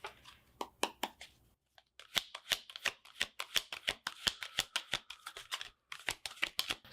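Tarot cards shuffled in quick riffling bursts, a pause near the middle before a longer run of sharp, evenly paced snaps close by, with no talk.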